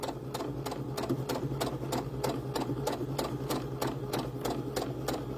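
Sewing machine running continuously while back stitching on fabric for corkscrew curls, a fast, even mechanical clatter with regular needle strikes, close and steady throughout.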